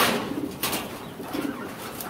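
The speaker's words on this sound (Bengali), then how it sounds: "এটা সিরাজি কবুতর।" A Sirazi pigeon gives low, soft cooing calls, two rounded coos close by, over quiet background noise.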